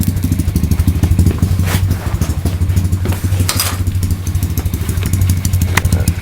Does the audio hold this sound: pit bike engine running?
yes